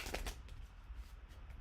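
A tarot deck shuffled by hand in a quiet room, giving a short, soft riffle of cards flapping together that lasts under two seconds.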